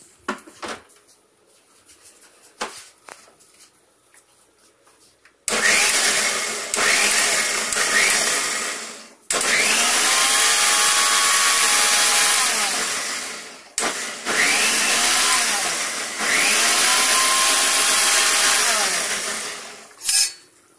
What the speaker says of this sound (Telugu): డైరెక్ట్ గ్రైండర్ అన్నమాట